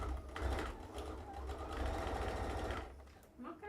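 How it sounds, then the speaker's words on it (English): A sewing machine stitches through fabric for a Christmas gnome or hat craft, a steady buzzing whir running continuously for over two seconds before stopping, with faint talk around it. "I'm just gonna sew all of this quickly."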